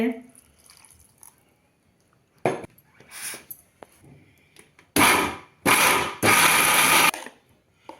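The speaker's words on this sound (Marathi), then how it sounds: "आता आपण ते मिक्सरमध्ये वाटून घेऊया" A kitchen mixer grinder blends soaked bhel with rava and curd into batter in three short, loud pulses near the end, after a stretch of quiet talk and light kitchen clatter.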